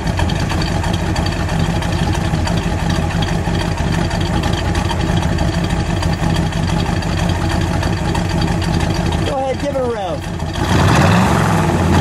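A 1968 Oldsmobile Cutlass S W-31 with a Ram Rod 350 V8 idles with a steady, loud, close rumble and a slight lope. A voice speaks briefly near the end.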